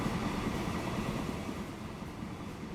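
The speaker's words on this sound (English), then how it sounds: "oil sand train just came in" An oil sand train arriving in Transport Fever 2 gives a soft continuous rolling rumble with faint rail clatter, steady and fairly quiet.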